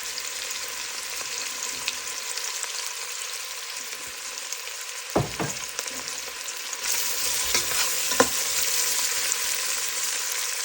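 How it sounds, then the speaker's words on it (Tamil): Onions sizzle and crackle in hot oil, a steady frying hiss with a couple of clattering utensil knocks partway through. "பாருங்கோ வெங்காயம் பொரிஞ்சு கொண்டு இருக்குது"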